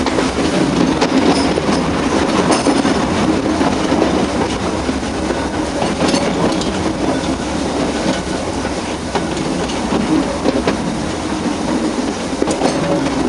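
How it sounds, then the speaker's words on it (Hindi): An Ooty mountain railway train crawls slowly up a steep gradient, a loud, close, continuous rumble with rhythmic wheel clatter and faint squeals, with no talking. "आप देख सकते हैं ये गाड़ी ग्रेडियंट की वजह से बहुत धीरे, काफ़ी स्लो गति से जा रही है।"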